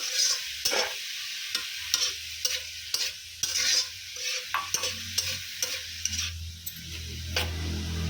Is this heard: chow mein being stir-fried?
yes